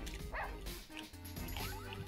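Several short yipping barks from a dog in the Russian Subway Dogs video game, quick and close, spaced across two seconds over a low hum of game noise.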